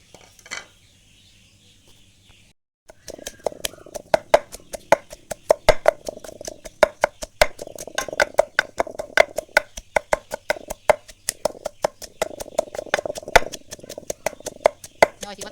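Roasted dried chilies pounded in a mortar while preparing a Thai-Lao bamboo-shoot soup, a steady run of sharp, close knocks at an even rhythm after a brief quiet opening.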